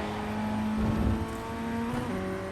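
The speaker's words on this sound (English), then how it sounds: "I'm keeping a tiny bit of maintenance throttle on, keeping it in 2nd gear, and I'm just feathering the throttle on the way around to keep it balanced" A Ray FF1600 race car in iRacing runs in second gear with the throttle feathered, giving a steady, close, buzzing engine note with small surges and dips in pitch.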